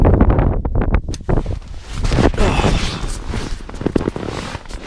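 Strong wind on a mountain at Cadair Berwyn, loud gusty roaring and buffeting straight across the microphone, with a voice talking under the blustery rush.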